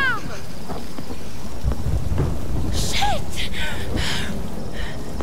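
Thunder rumbles through a rainstorm in Tomb Raider, a steady downpour hissing throughout with deep rolling crashes building and flaring in the middle of the scene.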